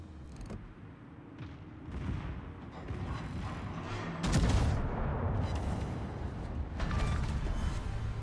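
Warship secondary guns firing in World of Warships: several heavy booming shots spaced seconds apart, each a loud broad blast over a continuous rumbling, creaking mechanical background.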